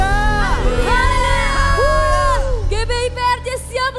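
A church congregation shouting and whooping hallelujah at a worship service, loud overlapping voices rising and falling together with crowd cheering throughout.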